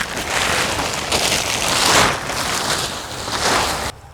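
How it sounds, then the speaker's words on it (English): A tarp being pulled off a Husqvarna YTH24V48 lawn tractor, heard as a loud continuous crinkling rustle with surges of plastic flapping, ending abruptly near the end. "let me just take the tarp off so you can see what I'm looking at"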